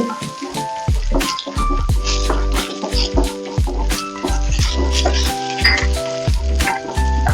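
Continuous sizzling of food frying in a pan, mixed with prominent background music that has a steady thumping beat.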